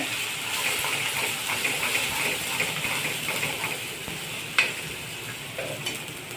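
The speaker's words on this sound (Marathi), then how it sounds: "छान परतून घेणे" Ingredients for jeera rice being sautéed in a pan: a soft, continuous sizzle with light stirring scrapes close by, and one sharper clack near the end.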